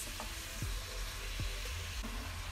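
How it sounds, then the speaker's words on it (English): Steady sizzling and crackling of pork frying in a hot pan, a continuous hiss with a couple of soft scraping stirs, no voices. "Ooh, sizzling meat."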